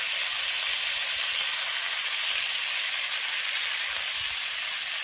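Ginger paste sizzles in hot oil with half-fried eggplant in a pan, a loud, steady, close frying hiss with no pauses.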